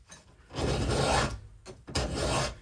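An Oregon chainsaw file rasps across a saw chain in two close, gritty strokes with a brief pause between them, rough and catching rather than smooth, close by and fairly quiet.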